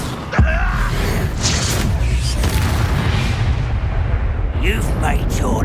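Fiery Confringo and Incendio spells cast in the Hogwarts Legacy video game burst with a sharp boom followed by a rumbling roar, while a voice shouts over the combat.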